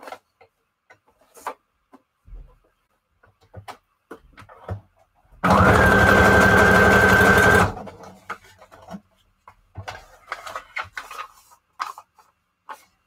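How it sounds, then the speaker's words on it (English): A sewing machine stitches through paper signatures for a junk journal, a steady rapid mechanical whirring run of about two seconds, close and loud, framed by quiet handling clicks and rustles. "ever since I got my sewing machine"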